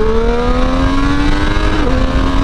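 A 2023 Triumph Street Triple RS triple-cylinder engine revs loud and close under acceleration, its tone climbing steadily with a brief dip partway through, amid strong wind rush.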